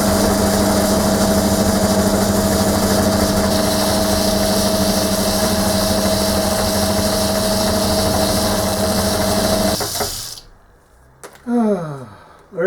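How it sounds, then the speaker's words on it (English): A big drill bores a hole through a rough metal casting for the lower part of a Scotch yoke mechanism, a loud steady motor whine and grinding lasting about ten seconds before cutting off, followed by brief quieter clatter. "Alright, you join me drilling a hole for the bottom part."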